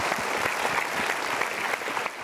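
A studio audience at a motivational talk show claps in dense, continuous applause, close and steady, with no voice over it.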